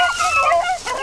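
A hound dog bays while working a track outdoors, its drawn-out, wavering howls carrying steadily through the moment, fairly close and loud, with no talk over it.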